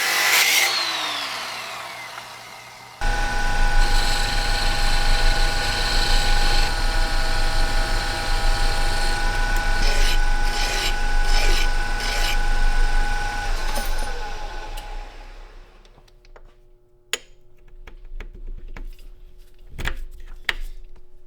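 A lathe turns down a 1-inch DOM steel tube for a Honda chopper front end, a loud continuous machining whine and rumble that starts abruptly, holds steady, then winds down and stops near the end.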